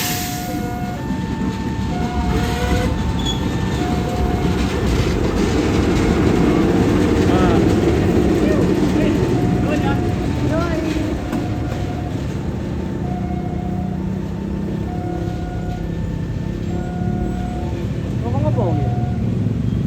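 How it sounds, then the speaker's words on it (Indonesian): Supas locomotive CC 206 13 11 rolling into track 3 of a railway station, a loud steady rumble with wheel rattle and squeals, tonal horn-like hums running through it, under a continuous busy station roar. "ini dia lokomotif Supas masuk jalur 3"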